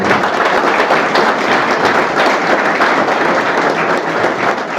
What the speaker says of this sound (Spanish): es un aplauso para el doctor Aveledo